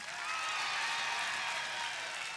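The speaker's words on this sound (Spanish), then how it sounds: "Aplauso para el 1." Studio audience on a Spanish-language TV variety show applauding a contestant, a steady wash of clapping from a crowd that stays even in loudness throughout.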